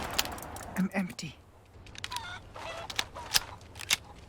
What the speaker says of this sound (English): Chicken tried to get me